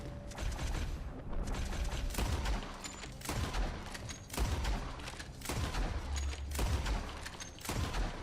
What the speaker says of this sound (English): I think he's got a Gatling gun.